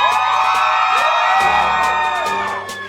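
A live audience screams and cheers loudly for an entertainer taking the stage, with high whoops and sustained shrieks from many voices piling together, then easing off near the end.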